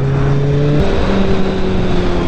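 A motorcycle engine drones steadily while riding on a damp road, a close and constant mechanical hum whose pitch steps down slightly partway through, with no talking.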